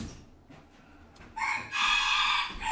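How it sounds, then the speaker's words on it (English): A rooster crows at a country home, one loud drawn-out cock-a-doodle-doo rising clearly above quiet background, close by and with no talk over it. "And we got Steve the chicken. Steve the rooster"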